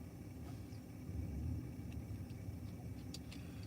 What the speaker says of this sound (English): There's a truck idling next to me.